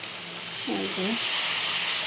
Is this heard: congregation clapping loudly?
no